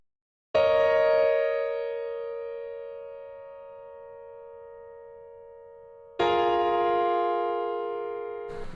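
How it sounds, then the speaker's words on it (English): Ableton's stock piano, dry and unprocessed, rings out in two sustained chords: the first decays slowly over about six seconds, then a second chord strikes and rings on, alone with no talk. "So it's just the Ableton stock piano. So this is what that sounds like."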